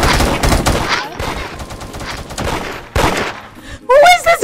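Rapid LMG gunfire in the Roblox game Da Hood, loud bursts of shots running through the clip, with a sharper burst near the end.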